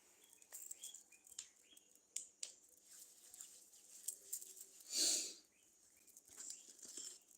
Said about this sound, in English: I don't know if you guys can hear the birds.